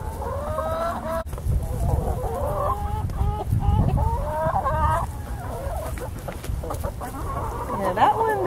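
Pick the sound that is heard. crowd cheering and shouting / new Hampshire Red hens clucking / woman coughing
new Hampshire Red hens clucking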